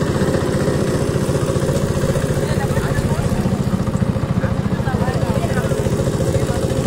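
Boat engine running steadily on a clear-water river with a stony bed, a loud, continuous close-range motor drone with a fast regular throb throughout.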